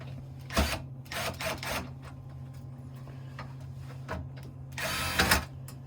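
Screws come out of a CCTV DVR unit with a few soft metallic clicks and scrapes over a steady low electrical hum, close and quiet, with a louder rattling handling burst near the end.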